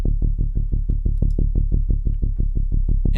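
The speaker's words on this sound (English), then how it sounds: "We have a synth bass right here in this section." Synth bass from the Trillion virtual instrument plays a steady run of about fifteen punchy, evenly spaced low notes, loud and alone with no voices.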